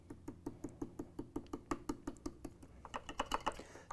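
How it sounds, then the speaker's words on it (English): Gentle tapping on top of a coffee scoop loading ground coffee into the bypass doser of a Gaggia Velasca espresso machine, a quick steady run of about twenty light, crisp taps, close and alone. "Simply tap the top of your scoop gently"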